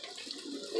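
Tap water runs steadily into a kitchen sink during a first shampoo hair wash, a close, continuous splashing hiss that swells slightly louder at the end.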